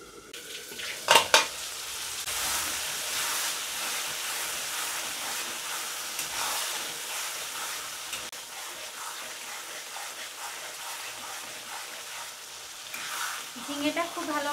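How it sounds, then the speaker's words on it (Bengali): Ridge gourd sautés in a pan with a little water, a continuous wet sizzle under repeated stirring and scraping, with a couple of sharp utensil knocks near the start and brief voice-like sounds toward the end. "এই জলেই ঝিঙা খুব ভালোভাবে কষিয়ে নেব"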